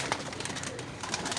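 Pigeons, including black-spotted and Chinese-type fancy birds, coo softly in short bursts at close range, with scattered rustling and no talk.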